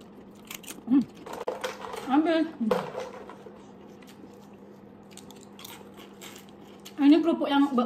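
Crisp bites and crunching on Malaysian onion crackers (kerupuk bawang) come in short bursts at a meal table, close and fairly loud, with a voice speaking between them.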